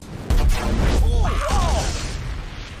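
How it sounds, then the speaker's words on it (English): A cartoon second Big Bang explosion in Futurama lets out a deep, sustained rumbling boom that swells suddenly and rolls on for several seconds, with faint swooping tones overhead. "It's a second Big Bang."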